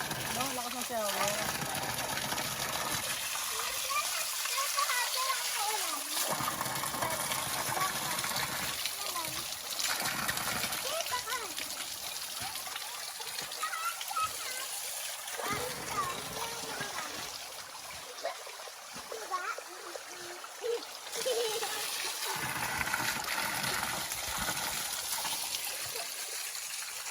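A strong shower of cold mountain spring water pours and splashes in a steady, loud rush throughout, with voices talking over the water at times.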